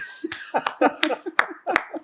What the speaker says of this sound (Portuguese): Vamos aplaudir.